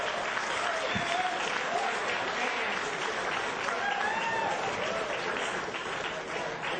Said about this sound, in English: What a nice round of applause for Kevin Grandjean.